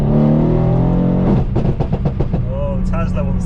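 A tuned 630 bhp Mercedes C63 AMG V8 revs under light throttle from inside the car, giving a steady deep drone that breaks into sharp pops and crackles before settling again.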